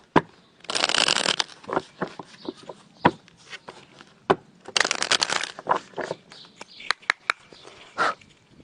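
A deck of cards shuffled for a tarot-style card reading makes two longer riffling bursts and many short taps and slaps, close up and without speech.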